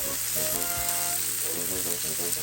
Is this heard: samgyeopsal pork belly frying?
yes